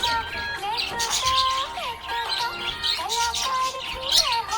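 A pet budgie chirps steadily and close by, in quick repeated tweets and whistled notes that carry on throughout, with a song playing underneath.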